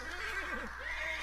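A horse neighs in a video game, a clear whinny with rising and falling pitch over steady in-game background noise, close and fairly loud, with no talking.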